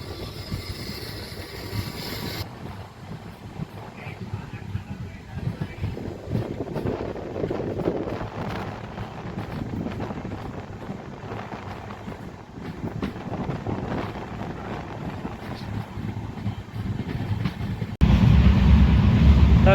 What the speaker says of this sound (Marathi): 11:43 धाराशिव रेल्वे स्टेशनवरून आपली दीक्षाभूमी एक्सप्रेस निघालेली आहे.